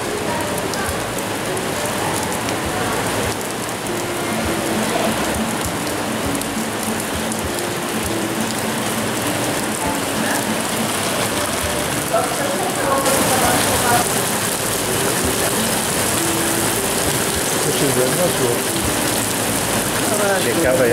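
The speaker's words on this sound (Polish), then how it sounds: "Rozpętała się ulewa. Pokażemy dach, jak woda spływa po szklanym dachu." Heavy summer downpour drums on and streams over a glass roof at a castle, a dense, loud, unbroken hiss of rain that grows even stronger partway through.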